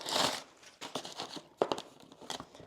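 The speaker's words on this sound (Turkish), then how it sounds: "Çok severim o açılma seslerini." Packaging crinkles and tears close by as an Apple iPad mini is unboxed, with a loud rustle at the start and then several shorter crackles and rips, with no talking.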